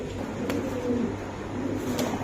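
Soft, low cooing from racer and Spanish cross pigeons repeats in a steady murmur, fairly close, with a couple of faint sharp taps and no talking.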